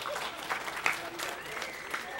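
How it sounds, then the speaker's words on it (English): A gathering at a weekly satsang claps for a child, a moderate burst of applause mixed with murmuring voices and a few louder individual claps. "Give him a round of applause."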